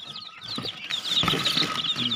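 Five-day-old native breed chicks cheep in a brooder with rapid, high, overlapping peeps, close by, alongside light rustling and fluttering movement.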